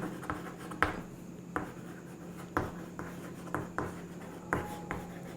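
Chalk or marker strokes on a classroom board during a physics lesson, a series of sharp taps and scratchy strokes coming in irregular bursts about every second, close and fairly quiet, with no talking.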